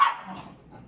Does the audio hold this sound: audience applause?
no